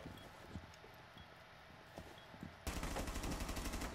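Video game gunfire: scattered single shots, then a sudden rapid burst of automatic fire that runs loud and continuous to the end, with no voices.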